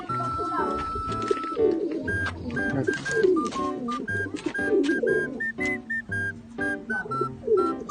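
Several pigeons coo in a loft, their soft throaty calls repeating throughout, close and fairly loud, with whistle-like tones and clatter mixed in and a voice briefly heard in the background.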